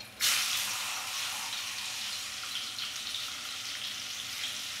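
Onions and vegetables hit a hot pan with a sudden burst of sizzling that settles into a steady, close frying hiss.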